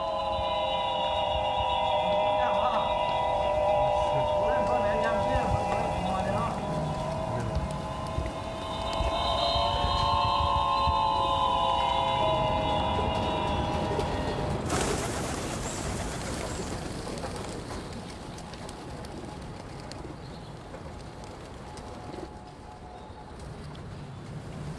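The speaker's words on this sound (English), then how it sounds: "The sound is made by whistles attached to pigeons." Eerie harmonic whistles from pigeon-mounted whistles in a Beijing hutong drift overhead as the flock circles, several layered tones sounding together, then fading into the distance.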